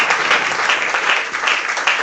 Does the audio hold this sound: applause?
yes